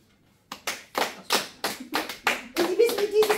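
Party guests at an AWO Lichte Christmas celebration clap their hands in a quick, uneven run of about ten sharp claps, close and fairly loud, with a voice sounding faintly underneath toward the end.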